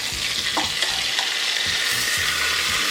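Whole chicken sizzling and crackling inside an air fryer as it is flipped, a steady broadband hiss with a few soft knocks and scrapes from handling, close and alone with no talking.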